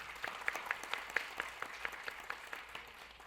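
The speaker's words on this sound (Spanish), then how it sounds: "Rey Andújar, un aplauso para él." An audience at an academic panel applauds a speaker with quick, scattered claps that carry on steadily for a few seconds at moderate distance. The clapping thins slightly toward the end.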